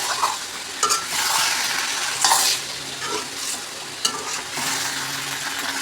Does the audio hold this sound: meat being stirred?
yes